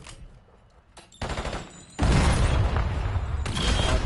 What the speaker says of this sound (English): That's a good nade kill out of it.